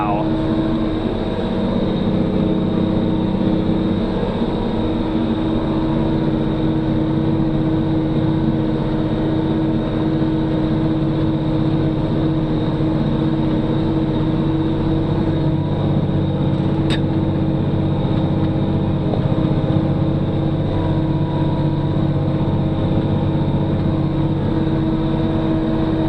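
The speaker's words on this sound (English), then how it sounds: "tractor's pulling down" A New Holland T9.390 tractor pulling a Landoll 6230 through thick organic sweet yellow clover, its engine a loud, constant heavy drone heard close up and sustained, with a low rumble and no change in rhythm.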